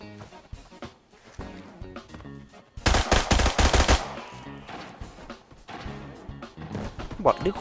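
Rapid automatic fire from an RPK-161 in the shooter game Arena Breakout, with scattered shots building to a loud sustained burst midway, while someone talks over the action.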